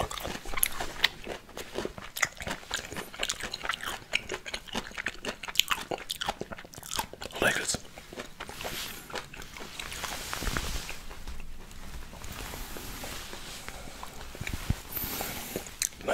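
Close, crisp biting and chewing of honey-soaked lemon slices, wet crunches and smacking mouth sounds repeating in an uneven rhythm throughout, recorded very near with no talking.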